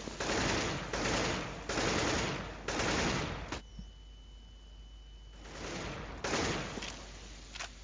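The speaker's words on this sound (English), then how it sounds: "Middle seems heavily under fire at the moment." Loud bursts of automatic gunfire from a CS:GO competitive match, four sustained volleys in quick succession, then a brief lull with scattered quieter shots before the firing resumes.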